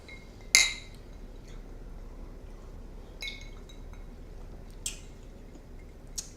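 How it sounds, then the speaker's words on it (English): Glasses of Knob Creek Smokey Maple bourbon clink together in a toast: one sharp, bright clink near the start, then a few fainter taps against a quiet room background. "Clink 'em and drink 'em."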